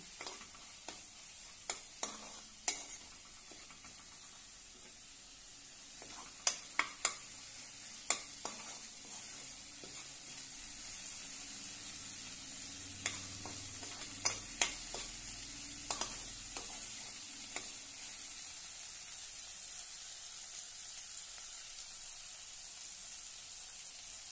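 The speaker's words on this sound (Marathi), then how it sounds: "तेलामध्ये सर्व मसाले परतून घेऊया।" Spices sautéing in oil for whole masoor dal, a quiet hissing sizzle broken by scattered sharp clicks and scrapes of stirring.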